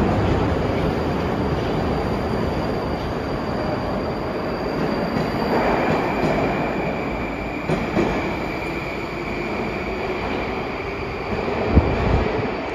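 A modern Baltiets subway train in the Moscow or Saint Petersburg metro runs with a constant loud rumble, occasional wheel squeal and a clunk near the end.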